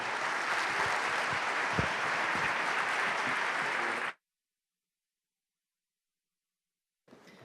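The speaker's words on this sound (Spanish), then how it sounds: "Les pido un aplauso para el panel de hoy." Audience applause for a panel session, a thick wash of clapping with a few sharper claps standing out, cutting off abruptly into silence before faint clapping resumes at the end.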